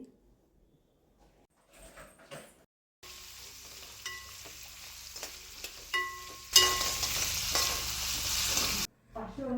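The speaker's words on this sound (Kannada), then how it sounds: "ಟೂ ಆನಿಯನ್ಸ್ನ ಹಾಕ್ಕೊತಿದ್ದೀನಿ ಆಯಿಲಲ್ಲಿ ಚೆನ್ನಾಗಿ ಫ್ರೈ ಮಾಡಿ" Two onions fry in hot oil in a pan for bitter gourd palya, with a steady sizzle broken by clanks of a stirring spoon that swells into a loud, close hiss before cutting off. Quiet kitchen clatter comes first.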